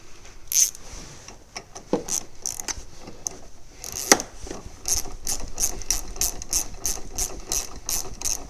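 A ratchet tightens the battery ground screw on a Ford Fiesta with a few scattered clicks at first, then a fast, even run of close, crisp clicking near the end.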